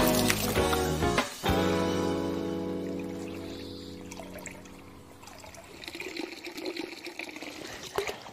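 Water runs from a pipe into a garden pond along a gentle fall, starting with a few gurgling splashes and settling into a steady trickle and splash up close with nobody talking.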